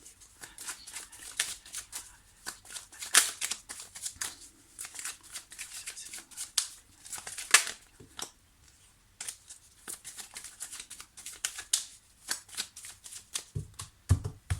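A deck of oracle cards is shuffled and cut by hand, with repeated soft riffling and flicking bursts up close, irregular in pace, and a couple of sharper snaps along the way.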